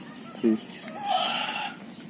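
Chickens cluck and murmur nearby in a quiet outdoor setting, with a short low call followed by higher squawky notes.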